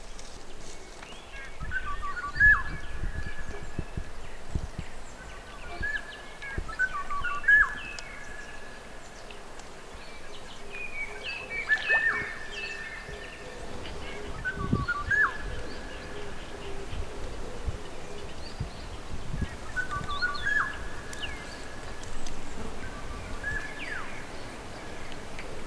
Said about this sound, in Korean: 저 멀리서 노래하는 새 중에 검은 등 뻐꾸기